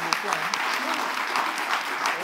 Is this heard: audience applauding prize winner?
yes